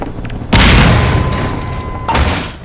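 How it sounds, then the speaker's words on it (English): Grenade blasts in Half-Life 2: a loud sudden boom with a long decaying rumble, followed by a second, smaller explosion about a second and a half later. "I think a grenade drop is necessary here"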